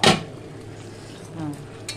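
A lid goes onto a cooking pot with a sharp metallic clank at the start, then quiet kitchen room tone and a faint small clink near the end.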